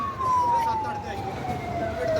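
A fire engine siren wails with a steady tone that slowly drops in pitch, responding to a chemical factory fire. It sounds moderately distant over a low background rumble.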